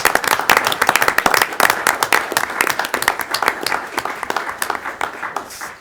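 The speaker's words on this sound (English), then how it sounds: "Let's give these folks a round of applause." Audience applause at a city council meeting, a small room of people clapping with distinct individual claps, strongest early and gradually tapering off.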